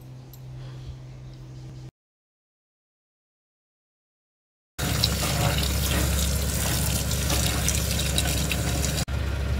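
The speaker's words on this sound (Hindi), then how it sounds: "चावल धुल के चढ़ा दिए, अब चावल हो रहा है।" Tap water runs loud and steady into a kitchen sink for rinsing rice, after a short stretch of quieter household sound and a few seconds of silence.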